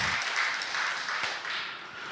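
A church congregation at a Christmas Day service applauds in thanks to the choir and instrumental accompanists, a brief, even burst of clapping.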